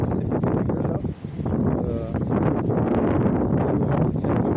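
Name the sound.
strong wind blowing outdoors in tomato garden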